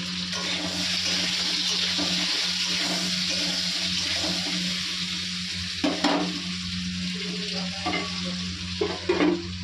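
Tomatoes and nigella seeds fry in a wok with a steady, broad sizzle that fills the whole stretch, joined near the end by a few louder stirring scrapes.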